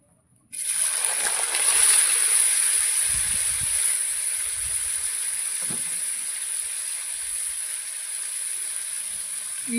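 Sliced ginger drops into hot coconut oil and erupts into a loud sizzling hiss that settles into steady frying, with a few soft clinks of a spoon underneath.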